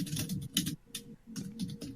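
Keyboard typing sound effects during a Mortal Kombat 11 release discussion: bursts of rapid clicking keystrokes with brief pauses between, fairly close and moderately quiet.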